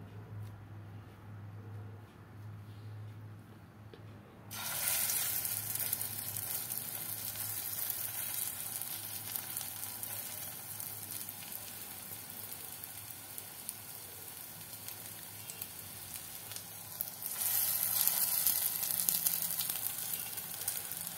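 Ingredients for an egg and potato mixture drop into hot oil and burst into a loud, steady sizzle over a lowered flame after a few quiet seconds. The frying continues throughout and swells again near the end.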